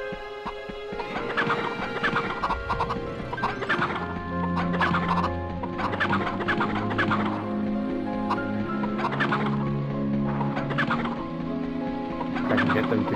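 Chickens cluck and gobble continuously in the PS1 game MediEvil, a dense, steady flock of fowl calls layered over game sound, loud and close throughout.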